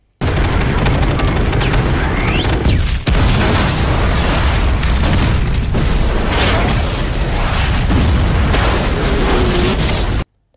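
A loud run of action-movie explosion effects, booms, bursts and rumbling blasts that roll almost continuously for ten seconds with only a brief dip near the start.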